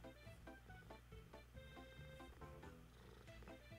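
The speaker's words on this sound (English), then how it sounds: "We call him Motorboat Jim. Because of his purrs." A cat purrs in a steady, rhythmic rumble of repeated pulses, close up but quiet, with no voices.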